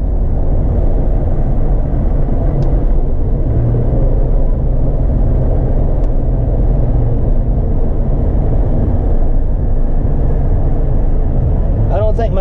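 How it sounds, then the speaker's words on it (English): Road traffic along a busy roadside, a steady loud rumble of passing cars with constant wind-blown noise and a faint voice mixed in. "A lot of traffic out here today."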